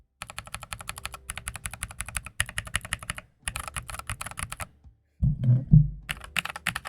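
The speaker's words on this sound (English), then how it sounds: "Here's what the keys sound by default, like when they come out of the box." Someone types fast on a computer keyboard with default, unlubed, out-of-the-box keys, giving crisp, close clacky bursts. Short pauses break up the typing, and a couple of low thumps come near the end.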